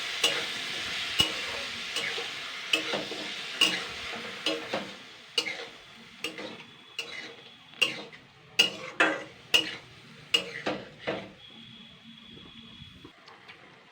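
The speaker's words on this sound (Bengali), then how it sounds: "এবার আমি সমস্তগুলো একসঙ্গে নাড়াচাড়া করব।" Boiled banana flower is stirred in a pan with a spoon, a steady run of sharp scrapes and clicks over a soft sizzle of frying, close and fairly loud with no talking.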